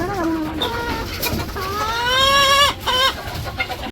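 Chickens cluck and squawk close by in a farm coop where quail are also kept, with several rising, drawn-out calls one after another and short pauses between them.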